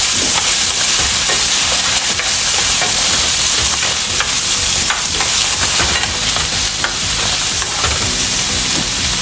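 Carrots sautéing in a hot pan, a loud continuous sizzle and crackle up close with scraping stirs of a utensil mixed in, no voices.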